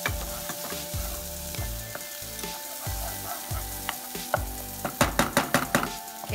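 Vegetables softening in a pan on a stovetop, a steady close sizzle under a repeating rhythm of stirring strokes, with a quick run of sharp clicks near the end.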